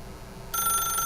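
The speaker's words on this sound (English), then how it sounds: "As Stanley picked up the phone, a white light engulfed him" A telephone in the video game The Stanley Parable starts ringing abruptly after a short quiet stretch, its bright electronic bell tone sounding clearly and loudly to the end.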